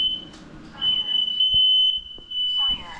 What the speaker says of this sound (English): there goes the fire alarm